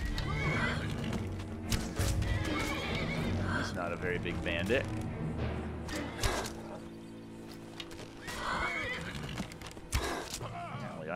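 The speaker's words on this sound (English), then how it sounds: "Apparently, I shot the horse." Horse in the Skyrim video game neighing loudly with clip-clopping hooves, mixed with game sound effects and someone talking over it.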